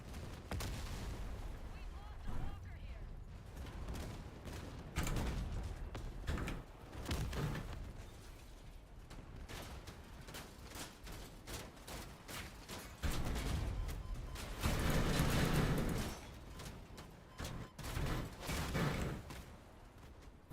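Shotguns fire in the vehicle combat game Crossout as a series of heavy, booming blasts and thuds that come in bursts over a rumbling battle bed, with occasional voices in the mix.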